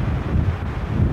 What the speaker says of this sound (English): Hear the wind.